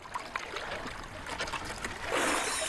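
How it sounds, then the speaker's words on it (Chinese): Stream water runs through a simple wooden basin as iron sand is washed by hand, a close, steady trickle and slosh with brief splashes that grow stronger near the end. "利用溪水自然的流动，用简单的木盆淘洗铁鹰砂"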